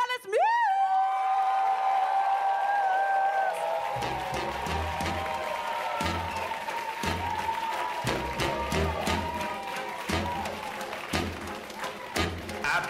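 An audience at a horror-themed cabaret show applauds and cheers for burlesque performer Julie Atlas Muz. A sustained tone opens the moment, then dense clapping with whoops and crowd noise builds and continues steadily under a rhythmic backing.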